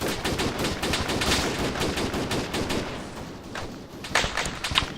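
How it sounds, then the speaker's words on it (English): Heavy automatic gunfire rattles continuously in a military shooter video game, dense rapid bursts of machine-gun and rifle fire filling the whole stretch, with louder sharp shots punching through near the end. "I'm taking extremely heavy fire from the northwest."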